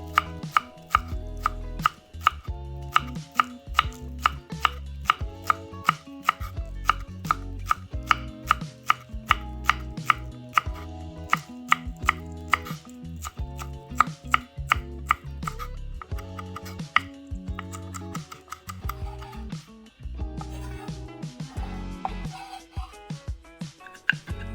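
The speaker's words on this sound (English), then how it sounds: "Chop the green parts and set them aside for garnish." Knife chopping green onion tops on a cutting board for wonton soup garnish, a long run of crisp, rapid, evenly spaced chops close by, pausing briefly near the end before a few final cuts.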